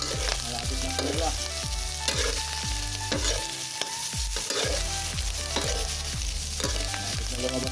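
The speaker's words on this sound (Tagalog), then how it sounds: "Palabasin lang natin konti mantika." Pork for Bicol Express renders its fat in a pan, giving a steady frying crackle under a strong rhythmic pattern of repeated low thumps that could be background music, with no talk.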